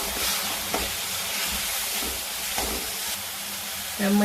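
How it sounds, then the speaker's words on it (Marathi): Onions and peas sizzle in a pan with a steady bright hiss, broken by occasional stirring scrapes and a louder clatter near the end. "कांदा परतून घेतलाय त्यामध्ये आपण हे वाटाणा थोडासा गरम पाण्यात उकळून घेतलाय"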